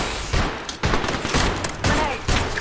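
Gunfire in the Apex Legends video game, heard as rapid, loud bursts of automatic fire in quick succession with booming impacts, dense and continuous through the short span.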